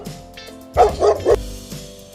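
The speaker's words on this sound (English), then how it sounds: "This is a dog." A domestic dog gives three loud, close barks in quick succession, each a sharp bow-wow, with soft background music continuing around them.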